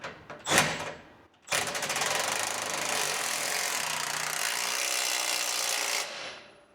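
A power tool such as an impact gun drives truck suspension bolts during a Bilstein 5100 shock install on a 2022 Ford F250 Tremor, a short blip followed by a loud continuous whirring run of about four seconds, close up.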